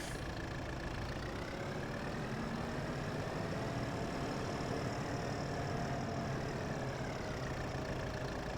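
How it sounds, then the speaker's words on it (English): Tractor engine idling in the Farming Simulator video game, a steady continuous drone with faint shifting tones, holding level and unbroken the whole time with no talk over it. "tractor hooked up here."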